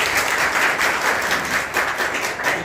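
An audience at a teacher training centre gives an official a warm welcome with sustained, dense clapping that swells and stays loud for the whole stretch.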